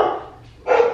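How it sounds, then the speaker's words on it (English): Dogs barking indoors at close range, with the brother's dog among them: two loud bursts, one at the start and a stronger one near the end, separated by a quieter pause, with no talk. "dogs are barking."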